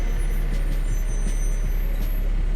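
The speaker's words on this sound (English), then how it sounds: "there's a fire truck right there" A fire truck rumbles close by with a steady, loud engine drone and faint high whistling hiss from its air brakes, no voices over it.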